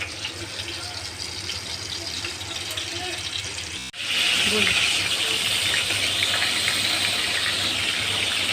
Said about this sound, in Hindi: ये छोटे छोटे कोफ्ते बना के ना ये इसको पैन में शैलो फ्राई करना